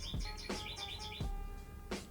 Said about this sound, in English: I'm at home right now, and my parents have like a bird alarm clock.